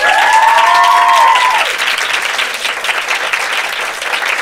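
Studio audience applauds a singer at a radio station session, dense continuous clapping with a brief sung or whistled tone at the start, fairly close and loud.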